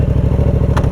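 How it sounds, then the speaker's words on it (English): A motorcycle engine chugs loudly and evenly at idle, close to the microphone, while the clutch is held and the bike is shifted into first gear. A brief click sounds near the end. "to get going I have to hold the clutch down, put first gear"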